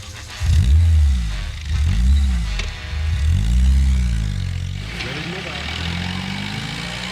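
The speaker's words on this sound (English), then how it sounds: "The diesel's rumble fills the garage." A diesel motorcycle engine rumbles loudly up close inside a garage, its deep growl swelling and dipping in repeated waves of revving.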